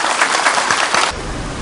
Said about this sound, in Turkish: Daha kuvvetli alkış askerlerimiz için.